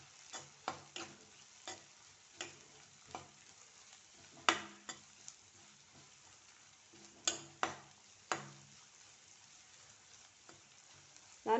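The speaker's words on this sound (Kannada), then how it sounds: "ಈರುಳ್ಳಿಯನ್ನು ಹೊಂಬಣ್ಣ ಬರುವವರೆಗೂ ನಾವು ಫ್ರೈ ಮಾಡ್ಕೊಳ್ಬೇಕು" Chopped onion frying in a pan for pav bhaji is stirred with a utensil, making quiet, irregular clicks and scrapes over a faint soft sizzle.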